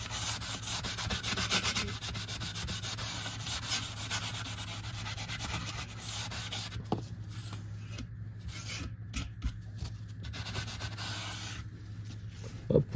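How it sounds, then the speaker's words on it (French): Aluminium sanded by hand with soft sanding sponges: a continuous close rubbing and rasping of back-and-forth strokes, steady and moderately loud, with a constant low hum underneath. "Alors je vais pas le poncer jusqu'à l'aluminium de partout, hein."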